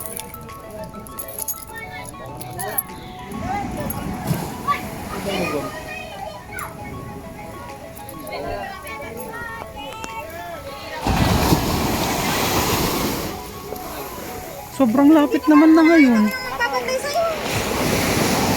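Sea waves break and wash at a non-white-sand beach during a family outing, a steady loud surf roar under speech in Filipino, with children's voices and a brief high call near the end.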